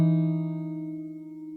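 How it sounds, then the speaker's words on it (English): On an acoustic guitar, a pull-off is played together with a bass note. The low bass and the higher picked tone start at the same moment and ring out together, fading gently with no talking. "you just have to add a bass note which you have to play at the same time when you pull off"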